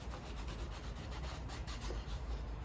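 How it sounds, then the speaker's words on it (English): Wet rag rubbed over the differential housing of a Toyota Hilux during restoration, a steady close scrubbing and swishing texture without pauses, nobody speaking. "give it a rub"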